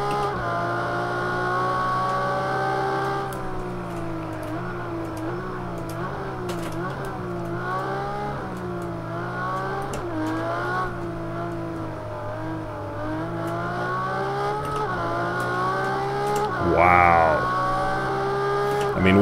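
A Ferrari FXX K in Project CARS 2 roars at high revs, its harmonic engine note rising and dipping through gear changes, with a sharp rev spike near the end; someone talks over it.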